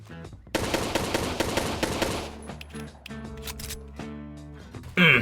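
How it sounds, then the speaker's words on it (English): Makarov pistol fire in the Phantom Forces game, a rapid run of loud punchy shots followed by scattered single shots and mechanical clicks, close and sharp, with a voice briefly heard. "did I also mention how punchy the Makarov sounds?"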